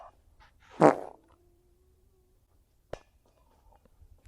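A fart sounds as a single short, loud, buzzy burst close by, then a quieter trailing tone and a couple of faint clicks in near silence.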